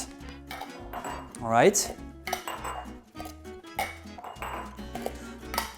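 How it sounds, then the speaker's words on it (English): Glass jam jars being unscrewed and handled in a kitchen while making raspberry jam, with metal lids clinking and scraping against glass over several seconds; someone speaks briefly nearby. "I am going to unscrew all of the jars."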